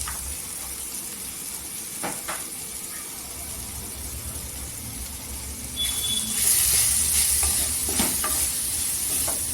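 Spices stirred into a sizzling pan of village-style spicy brinjal curry, a steady close frying hiss with scraping stirs that grows louder and brighter toward the end, no talking.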